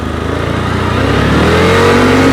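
A 2024 CFMoto CForce 800 Touring ATV engine accelerating, a loud close steady roar that builds and rises in pitch through the run, with no talk.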